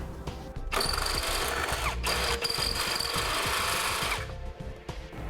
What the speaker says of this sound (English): we're just going to take a 1/2-inch drill bit and just clean out the hole